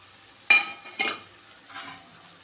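Spice powders are stirred into frying onions for tuna biryani, with two brisk scraping strokes and a softer third under a low sizzle, close up and without talk.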